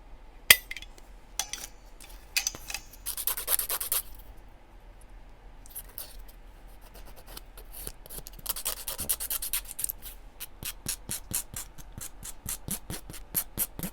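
Rough scraping strokes of a file shaping down a soft gel full-cover nail extension, in quick repeated bursts with small clicks, close and fairly quiet.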